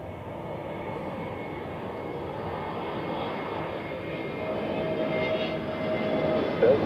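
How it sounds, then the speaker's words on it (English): A Scandinavian Airbus A320neo arriving from Oslo comes in to land at Zurich Airport, a steady distant engine roar that slowly grows louder. "let's also show the Scandinavian A320 Neo coming in from Oslo"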